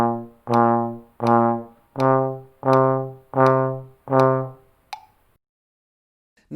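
A trombone plays the quarter-note phrase of Hot Cross Buns, seven even, sustained notes in steady rhythm, close and loud, followed by a short click and silence.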